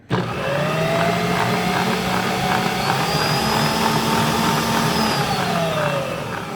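Stand mixer beating cookie batter runs as a loud, steady motor whine, its pitch shifting slightly over several seconds, with no talk.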